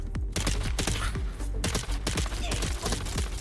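Rapid gunfire from the Takwas double, a burst-firing gun in the Dune Awakening video game, cracks out in dense, repeated two-shot bursts, loud and close, with barely a pause between volleys.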